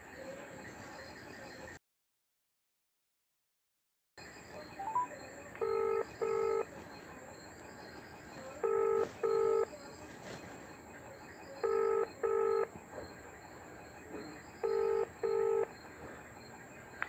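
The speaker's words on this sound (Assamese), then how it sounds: "ফোনটো লগাইছোঁ মই" A phone call being placed: a quick dial beep, then a ringback tone that repeats in steady paired bursts about every three seconds over a low hum, after a brief silent gap.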